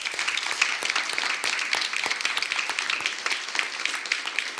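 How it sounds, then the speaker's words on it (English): Audience applause rings out to welcome a speaker at a university event at Case Western Reserve, a steady wash of many hands clapping at moderate volume, dense and continuous throughout with no talk over it. "let's give her another round of applause"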